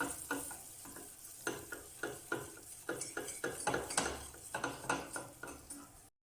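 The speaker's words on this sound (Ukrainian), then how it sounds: "До розтопленого масла кидаємо борошно і перемішуємо до однорідності." Flour is whisked into melted butter in a pot for béchamel sauce. Brisk, close scraping strokes come in a quick irregular rhythm over a soft sizzle. No one speaks.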